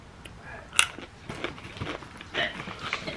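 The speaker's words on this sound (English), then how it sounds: "another crunchy peanut because these are my favorite so far." Someone bites into a crunchy tajin-seasoned peanut from a festival snack mix, giving a sharp close crunch followed by several softer chewing crackles.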